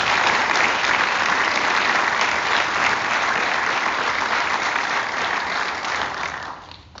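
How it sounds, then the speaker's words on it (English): Steady audience applause at a high school awards night for a student honoree, dense and even for about six seconds before tapering off. "Let's give a round of applause to our first student"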